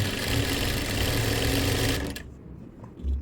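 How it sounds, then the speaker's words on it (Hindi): A sewing machine runs in a steady, rapid whirring burst stitching a palazzo pant pocket seam, then stops abruptly, followed by quiet handling of fabric. "इस तरीके से हम नीचे तक पूरी सिलाई ले जाएंगे।"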